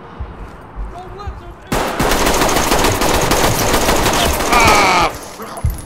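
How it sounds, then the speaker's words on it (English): Gunfire in the tactical shooter Ready or Not, a sudden loud burst of rapid automatic shots that keeps going for several seconds and then stops, with faint voices beforehand. "It sounds like gunshots,"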